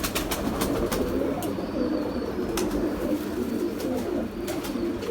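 Pigeons of a breeder's loft coo in low, steady murmurs close by, with sharp wing claps and flapping bursts scattered over the cooing.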